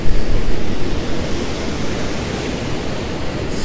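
Powerful Baltic Sea waves in a storm surge roar loudly and continuously along the coast, a dense wash of surf and wind with no voices.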